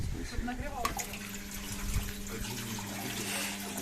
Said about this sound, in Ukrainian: наберемо воду в умивальник